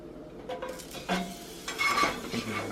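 Mushrooms and garlic frying in a cast iron pan, a soft sizzle broken by several brief utensil scrapes and stirs, close and fairly quiet.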